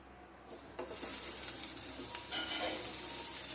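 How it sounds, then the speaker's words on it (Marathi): Paneer and ginger garlic paste sauté in a pan with kasuri methi, a quiet continuous sizzle with stirring scrapes that starts after a brief hush and stays even throughout. "आता आपण यांना नीट परतून घेऊयात. आता आपण यात पनीर टाकूयात"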